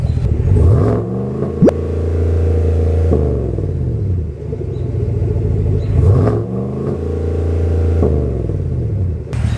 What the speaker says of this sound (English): Now we'll see what it's like with a little bit of revving.